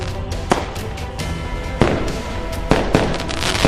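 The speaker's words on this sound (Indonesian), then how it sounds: "Kembang api spiritual meledak di angkasa" Fireworks burst in the sky: several sharp, loud bangs spaced a second or so apart, each trailing into a dense crackle that carries on between the blasts.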